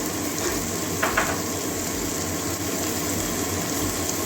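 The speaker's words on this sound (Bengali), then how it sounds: "টমেটোটা নরম হওয়া পর্যন্ত ভেজে নেব" Tomatoes frying in a pan for a chana dal with okra and potato, giving a steady, moderately loud broadband sizzle throughout, with a couple of brief stirring scrapes near the start.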